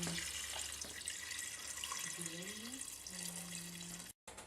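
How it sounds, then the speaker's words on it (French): Water running from a tap into a cooking pot while making lamb couscous, a steady close splashing flow with faint tonal hums, ending in an abrupt brief cutout. "remplir le faitout d'eau jusqu'aux 3/4"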